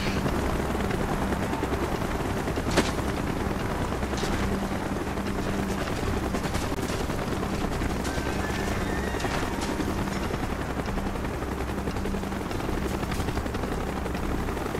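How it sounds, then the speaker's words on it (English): A helicopter rotor thumps steadily in a Call of Duty: Black Ops battle scene, a loud, constant whirring drone that holds at close range throughout with no voices. "Chopper's inbound! Move it!"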